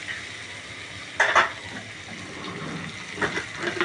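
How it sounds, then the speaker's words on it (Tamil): Brinjal pieces sautéing in a pan for South Indian sambar, a soft steady sizzle with a couple of brief louder scrapes and stirring clatters from the spatula. "கத்திரிக்காய் நல்லா வதங்கினதுக்கப்புறம்"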